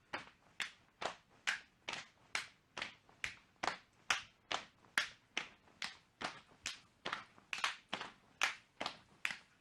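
Hands clapping overhead during jumping jacks in a women's self-defence exercise session, about twenty crisp, evenly spaced claps in a steady quick rhythm, close and clear with no talk.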